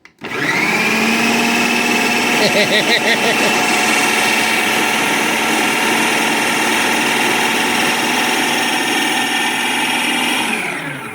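A kitchen machine blends tomatoes for plain sauce, running loudly and steadily for about ten seconds with a whirring motor drone and churning of the contents before winding down.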